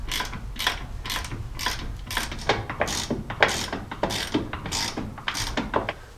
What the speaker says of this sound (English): now I'll start removing the 2 nuts that connect it to the brake booster